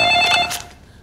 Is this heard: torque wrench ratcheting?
no